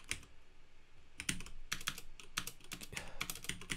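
Someone types on a computer keyboard in irregular quick bursts of clicking keystrokes, close and fairly quiet, with a short pause near the start.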